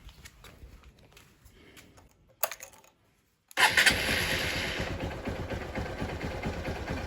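A Honda XR150L motorcycle engine with a modified carburetor cranks briefly, falls silent, then fires up and settles into a steady, loud idle close by.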